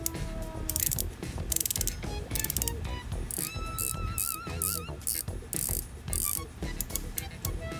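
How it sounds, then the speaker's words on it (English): Rotating bezel on a Viqueria Trecento dive watch, turned in quick runs of crisp, close ratcheting clicks with brief pauses between bursts, with faint speech in places. "the submersible is known for its raw and brutal clicks"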